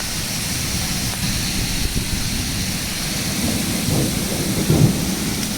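Heavy rain pours steadily outdoors during a storm, with low rumbling thunder rolling beneath the hiss and a brief louder swell near the end.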